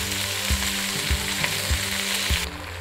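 Onions frying in a pan for Jamaican curry chicken, a constant close hiss and sizzle broken by four evenly spaced dull knocks of stirring.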